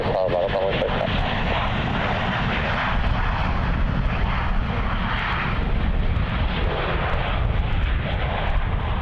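An airplane powers up on runway 34 at Melbourne Airport, a loud sustained engine roar with broad rumbling noise throughout, while radio air traffic control voices talk over it.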